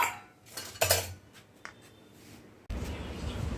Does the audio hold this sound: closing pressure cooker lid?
yes